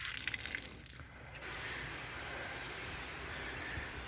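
A garden hose on its shower setting sprays water over a 1978 Chevy C10 long-bed truck, a steady hissing wash that briefly dips before running on continuously, close by and alone.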